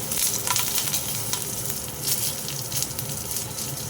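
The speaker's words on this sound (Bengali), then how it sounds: "দিয়ে দিলাম কালো জিরে, একটা কাঁচা লঙ্কা চিড়ে দিলাম" Black cumin and a slit green chili frying in hot oil make a loud, steady sizzle with crackling bursts, close and continuous, with no talk.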